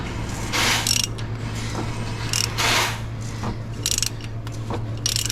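A ratchet on a 1/2-inch drive turns the engine of a 1998 3000GT that has sat for 12 years, giving repeated clicking pawl bursts and grinding mechanical strokes over a low steady hum, close and moderately loud.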